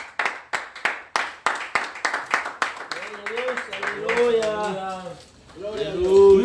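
A church congregation claps in a quick, regular rhythm of sharp hand claps for a few seconds, then the claps fade as voices rise and carry on over the end.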